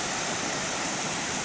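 Kirkwood Creek pours into the Snake River in Hells Canyon, Idaho, a steady broadband rush of flowing water close by with no voices.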